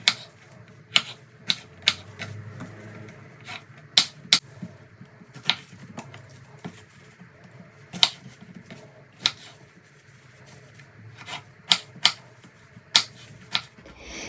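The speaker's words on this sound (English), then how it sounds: "I've started cutting up some strawberries." Knife chopping strawberries on a cutting board during jam making, sharp irregular taps ringing out one at a time over a quiet kitchen background, close and fairly crisp, no talking.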